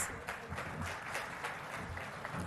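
Applause from an audience, a soft wash of scattered hand claps at a distance, fairly faint and continuous.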